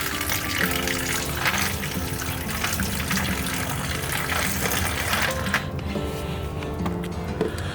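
Water pouring steadily into a plant tray while tending carnivorous Heliamphora plants, a continuous close splashing gush that thins and quiets near the end.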